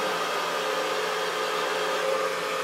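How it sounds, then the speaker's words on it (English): Blow dryer fitted with a diffuser, running as a steady, close whooshing hum of airflow with an even motor tone throughout, no talking over it. "If you use your diffuser, you can softly dry things in place without blowing it around"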